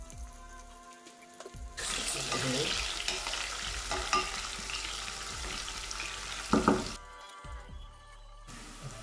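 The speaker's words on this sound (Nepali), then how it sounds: "जिरा फ्राइदिएँ आधा चम्चा जिरा यसपछि खुर्सानी पनि खुर्सानी र जिरा यो कालो कालो हुँदैछ" Cumin, chili and onion hit hot oil and break into a loud, steady sizzle with stirring scrapes on top, bounded by quieter moments before and after. The frying sounds close, with no voices over it.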